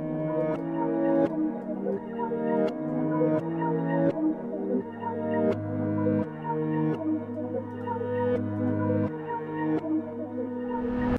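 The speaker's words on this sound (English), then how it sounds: "Found this flamenco accent, it sounds pretty cool." A flamenco-style guitar accent sample with sharp strummed accents and ringing chords, repeating rhythmically over several seconds, clear and close.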